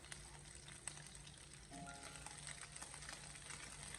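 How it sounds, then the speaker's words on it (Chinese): Fish pieces pan-fry slowly in an iron wok over low heat, giving a faint, even, continuous sizzle with a few light ticks and no talking. "我们全程开小火，给它慢慢的进行煎制"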